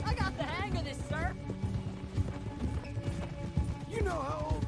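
Hooves of a galloping horse in Red Dead Redemption 2 beat a quick, even rhythm under a speaking voice and background music, with brief tonal cries near the start and end.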